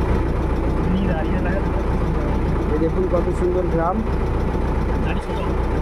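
A boat engine chugs steadily on a river in the Sundarbans, a constant low motor hum running throughout beneath someone speaking close by.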